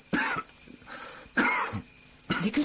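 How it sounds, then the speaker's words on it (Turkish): Bad coughing in three harsh, separate fits spaced about a second apart, each with a raspy throat-clearing edge, close and clear in a quiet indoor room. "Ne kötü öksürüyorsun öyle?"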